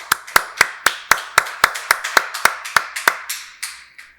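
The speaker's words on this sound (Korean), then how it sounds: "박수로 하나님께 영광 돌리겠습니다" A church congregation claps together during a Sunday worship service, a steady run of about fifteen sharp, loud, evenly spaced claps that slow and thin toward the end, with no talking.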